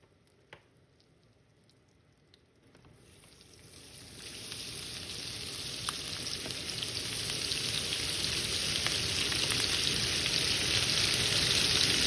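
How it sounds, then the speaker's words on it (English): Smoked sausage pieces frying in bacon grease, a sizzle that swells from near quiet into a loud, dense, steady crackle with scattered pops, close up and with no talking. "I went ahead and added my smoked sausage to the bacon grease"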